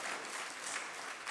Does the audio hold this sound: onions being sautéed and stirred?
no